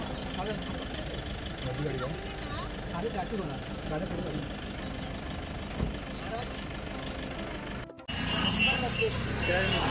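A vehicle carrying a palanquin procession idles on arrival with a steady mid-pitched engine rumble, while a crowd murmurs and voices speak over it, the sound growing louder near the end.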